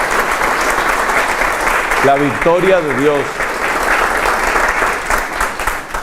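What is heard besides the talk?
audience applause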